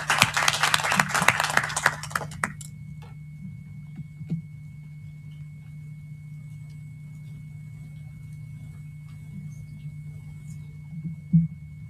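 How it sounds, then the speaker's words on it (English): Conference room audience applauding a panel of four speakers, a burst of clapping for about two seconds that quickly dies into quiet room hum with a faint thump near the end. "I'd like to propose another round of applause for the 4 speakers"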